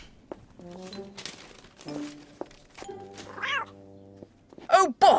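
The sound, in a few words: cat meowing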